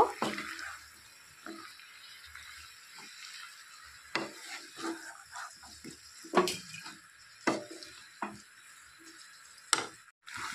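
A spoon stirs onion stalks with turmeric in fish oil in a pan, giving irregular scraping and clinking strokes over a faint sizzle, some strokes sharper and louder than others.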